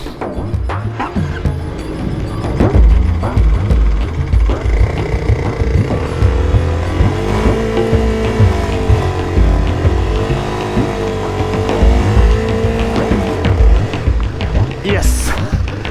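A motorcycle engine revs and labors continuously while the rider works it out of a muddy rut in the French countryside, rising and falling in pitch over about sixteen seconds.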